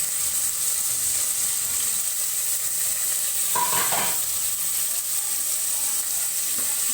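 Quarter kilo of washed mutton frying in a pan for spicy mutton chukka, with a steady loud sizzle throughout and a brief burst of stirring scrapes near the middle; no talk.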